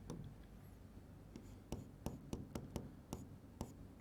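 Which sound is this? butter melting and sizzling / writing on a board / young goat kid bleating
writing on a board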